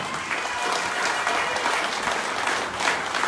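Steady applause from a crowd at a political rally announcing a gubernatorial candidacy, dense clapping continuing evenly throughout with no break.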